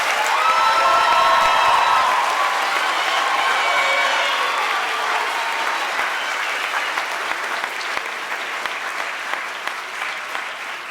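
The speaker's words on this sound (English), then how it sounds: "Musicians, please rise and receive our applause." A large audience applauds musicians at a high school awards ceremony, with steady, dense clapping, scattered cheers and whoops that run throughout and taper slightly toward the end.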